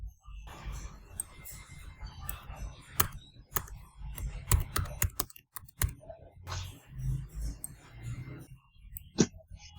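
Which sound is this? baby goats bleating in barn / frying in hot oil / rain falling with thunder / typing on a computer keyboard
typing on a computer keyboard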